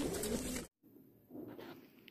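Pigeons restless inside a carrier during transport give soft coos and rustling, first a loud close burst, then a brief drop to silence before quieter cooing and shuffling resume.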